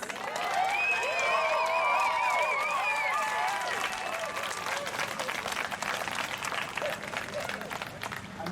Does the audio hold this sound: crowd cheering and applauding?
yes